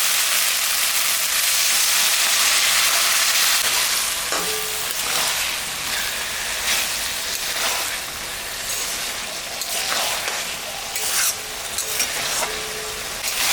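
Water poured into a hot pan of ridge gourd and fish curry being fried and stirred, giving a steady loud sizzle and hiss with occasional scraping stir sounds, close by.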